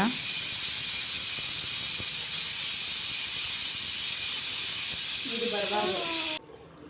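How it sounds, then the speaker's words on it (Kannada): Steam hissing loudly and steadily from a pressure cooker released after several whistles while mutton sambar cooks, a constant broadband rush that cuts off abruptly near the end. "ಈಗ ಸ್ಟೀಮ್ ಓಪನ್ ಮಾಡುವ ಸಮಯ"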